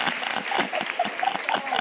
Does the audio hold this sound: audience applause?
yes